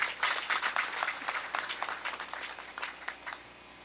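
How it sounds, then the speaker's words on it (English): Audience at a university opening and matriculation ceremony in Kumasi applauds the team, a lively patter of many hands that starts strong and gradually tapers over a few seconds. "I think that this team deserves a round of applause."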